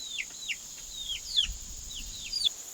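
Chickens in a backyard coop give a run of short, high chirping calls, roughly one every half second, close by with no talk over them.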